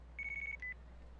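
A mobile phone rings in Yakuza: Like a Dragon, a short electronic trill of rapid pulses followed by a brief second tone, clear and isolated.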